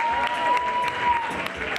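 Audience applause for Dr. Tines at the Ziyagezana Excellence Awards, Rietvlei site: steady clapping from a crowd in a hall, moderately loud and continuous throughout, with a faint tone and some murmuring underneath.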